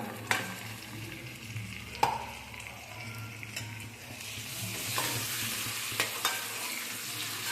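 Marinated prawns tossed into fried onions in a hot pan, sizzling steadily up close while a spatula stirs, with several sharp clinks and scrapes against the pan.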